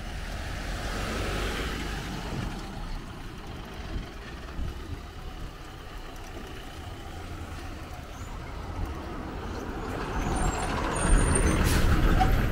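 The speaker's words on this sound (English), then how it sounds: "Bus." A bus passes along a road in Bullet Tree Falls, Belize. Its engine rumbles steadily for several seconds, then swells louder and closer with a high hiss of air brakes near the end, and no one speaks.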